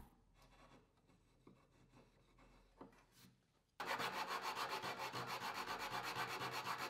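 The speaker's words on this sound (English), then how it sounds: "The dried glue can be removed very easily with a sharp chisel." A sharp chisel scrapes dried glue off wooden joinery, giving soft intermittent scraping strokes at first, then a loud, steady, rhythmic rasping in close-up for the second half, with no talk.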